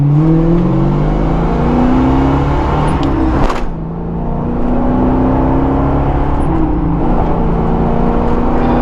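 A 1976 Pontiac Trans Am with a 400 V8 and four-speed manual pulls hard under acceleration, its loud, steady engine roar rising through the gears with a brief dip around a shift.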